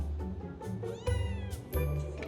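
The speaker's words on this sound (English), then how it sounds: "I have never in my life seen a cat this tiny." A tiny kitten meows repeatedly, loud and close, with high, strained cries over a steady low rumble in the background.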